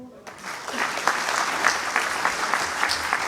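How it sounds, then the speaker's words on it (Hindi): An audience in Indore breaks into dense, continuous applause after an inspiring talk, a close, even wash of many hands that swells just after the opening and holds steady throughout. "तालियां बजती रहनी चाहिए इस प्रेरणादायी उद्बोधन के लिए"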